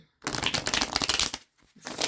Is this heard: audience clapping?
no